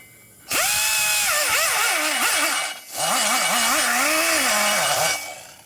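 A rotary cutter grinds inside a Harley-Davidson Twin Cam cylinder head during porting, a loud, close, high whine that wavers in pitch, cuts out briefly and then resumes.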